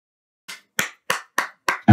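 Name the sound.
hand clapping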